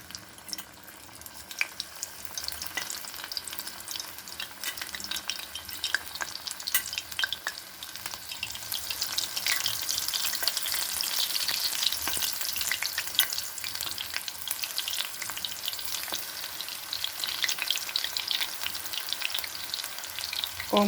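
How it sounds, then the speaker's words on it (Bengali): Thin flowers dropped into hot oil over a low flame, giving a steady soft sizzle and crackle that builds slightly and continues throughout, fairly quiet, with no voices. "তেলটা ভালো করে হাই ফ্লেমে গরম করে নিয়ে এখন গ্যাসটা কমিয়ে রেখেছি। এখন ফুলগুলো ছাড়বো।"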